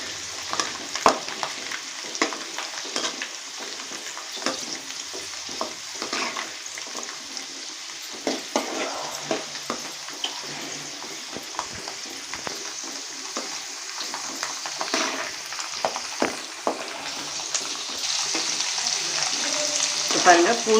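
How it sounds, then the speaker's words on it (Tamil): A cup of garlic cloves fries in oil for a taro root kara kuzhambu, giving a continuous crackling hiss with scattered pops and stirring scrapes that grows slightly louder toward the end, with no talking. "பூண்டு லைட்டாக செவக்கிற அளவுக்கு நம்ம எண்ணெயிலே நல்லா வதக்கிக்கலாம்."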